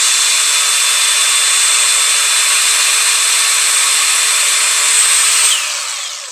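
Cordless angle grinders from DeWALT, Milwaukee and Chuang run at speed, a loud, steady high-pitched whine that holds evenly and then begins winding down toward the end.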